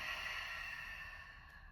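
A long, steady exhale during a yoga breathing exercise, a soft airy breath held close that fades gently over nearly two seconds.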